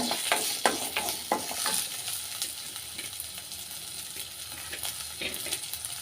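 Appalam chammanthi is sautéed lightly in a pan, a moderate sizzle with rhythmic scraping stirs clattering through the first seconds, then a softer continuous fry with occasional stirring taps and no voices.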